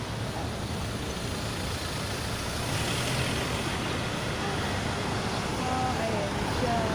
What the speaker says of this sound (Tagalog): ang daming sasakyan dito sa tabi